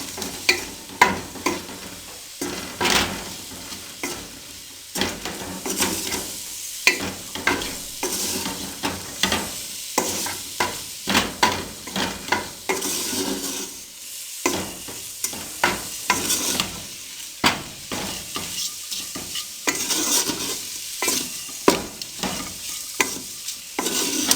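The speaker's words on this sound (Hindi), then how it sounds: "मिक्स कर अब 2 से 3 मिनट के लिए इसको भून लेंगे।" Macaroni mixture stir-fried in a pan, giving a steady sizzle broken by frequent scraping and clattering strokes of a spoon against the metal throughout, with no voices.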